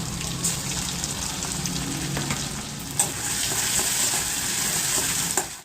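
Cumin seeds and garlic paste sizzle steadily in a spoonful of ghee, a loud, close, continuous frying crackle with a brief stir-like disturbance near the end and no talking.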